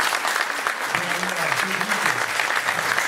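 A crowd at a 2014 French municipal election campaign meeting claps continuously in a steady, moderately loud round of applause, with a voice faintly audible underneath partway through.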